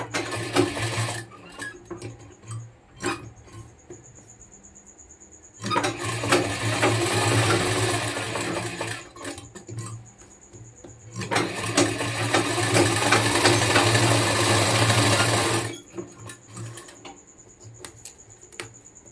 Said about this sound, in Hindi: नोक के चारों ओर आपको बहुत ही बारीकी से सिलाई लगानी है।